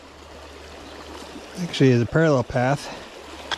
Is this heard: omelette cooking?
no